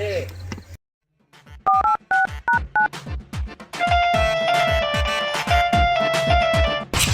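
Telephone keypad tones beep in a quick sequence of short, distinct dialing tones, followed by a sustained ringing tone under talking, loud and close.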